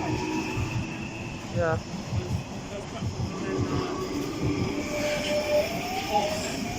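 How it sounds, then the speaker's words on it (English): A London Underground Jubilee line train bound for Stanmore departs Wembley Park, rumbling and clattering along the track with a brief wheel squeal and rising motor tones, while people talk nearby. "Jubilee line service for Stanmore's just ready to depart."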